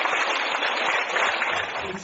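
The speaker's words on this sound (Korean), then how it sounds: "뜨거운 박수로 맞으시기" An audience applauds warmly to welcome a guest at a Buddhist temple talk, a soft, steady patter of many hands clapping at a distance, continuous throughout.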